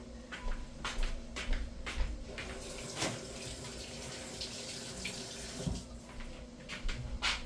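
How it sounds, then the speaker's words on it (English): Water runs from a kitchen sink tap while hands are washed under it. The stream is steady and close, with splashes and brief bursts as the flow is interrupted, and no speech. "let me wash my hands"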